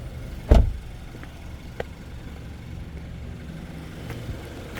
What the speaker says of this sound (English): Very quiet little 2-litre motor, these guys. Obviously a little 4-cylinder.